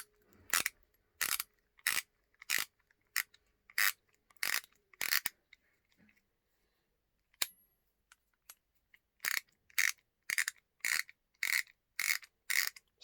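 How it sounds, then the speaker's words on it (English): A 72-tooth fine-tooth Falken ratchet from a German 1/2-inch socket set clicks in quick, even bursts, close and crisp, with a quiet pause midway before the clicking resumes. "this ratchet is fine teeth ratchet"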